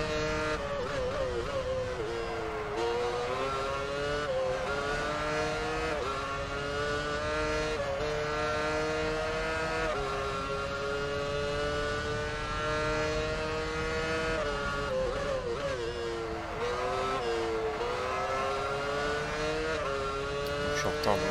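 Formula 1 cars in F1 Championship Edition on the formation lap at the Spanish Grand Prix, several engines droning close and loud with rising and falling revs and gear changes, a continuous high wail throughout, commentary voice beneath.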